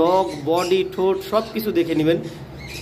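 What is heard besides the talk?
No everyday noise stands out behind the speech.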